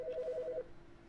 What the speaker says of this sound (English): Oh, there's a phone ringing now.